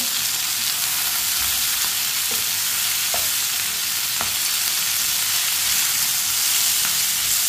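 Finely chopped tomatoes and green chillies cook in a hot pan for an aloo karela dish, giving a loud, even, unbroken sizzle with a few faint clicks of a utensil.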